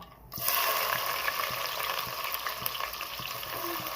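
Cumin seeds and onion hit hot oil in a pan with a sudden burst, then keep frying in a bright, steady sizzle with faint crackles, close and alone.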